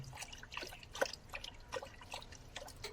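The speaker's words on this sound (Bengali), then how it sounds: "এই যে জল ওভার হয়ে চলে যাচ্ছে দেখতে পাচ্ছেন জল যাচ্ছে" Tidal water spills over and flows away in the Sundarban mangrove forest, giving faint, scattered drips and small trickling splashes at close range.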